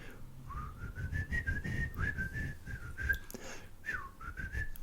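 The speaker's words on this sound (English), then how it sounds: "I'm gonna try and whistle into the mic without making a distorted sound." A person whistles the In the Hall of the Mountain King theme into a microphone, a thin, slightly wavering melody of short rising and falling phrases, close and fairly quiet, with no talking.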